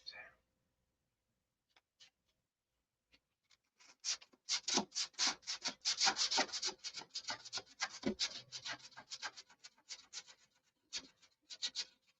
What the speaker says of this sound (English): this sanding driving me nuts